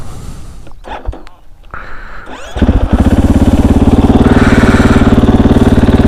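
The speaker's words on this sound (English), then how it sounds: "Clutch in, put it in gear, foot on the foot peg, gas it, roll out." A motorcycle engine catches and settles into a loud, steady, throbbing run at close range, pulsing evenly as the rider puts it in gear and rolls away; quieter handling noises come before it, with no talk.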